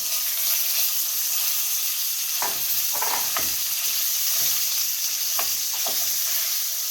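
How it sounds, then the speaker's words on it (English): Oil heats in a pan for Sicilian rice balls, giving a steady, even sizzling hiss throughout with a handful of brief pops and ticks scattered through the middle. "what I'm going to do is heating up the oil"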